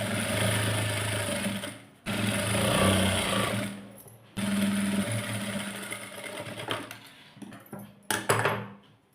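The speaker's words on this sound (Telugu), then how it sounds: "లైనింగ్ పెట్టి కుట్టేసేయాలండి" A sewing machine stitches lining into a blouse in bursts of rapid mechanical chatter. The motor stops briefly between runs, then starts again, close and fairly loud.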